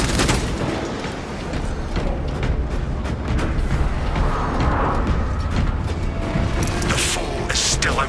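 Constant gunfire and explosions rumble through a siege battle in the video game Warhammer 40k Space Marine 2, a dense, loud barrage with booms and mechanical clatter.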